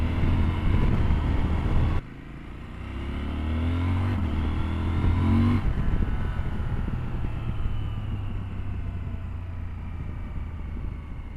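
A CF Moto 1000 MT-X (Ibex 950) motorcycle engine drones steadily while riding, with a deep low hum. The throttle shifts near two seconds, the revs climb and ease, then the engine settles into an even cruising rumble with wind noise.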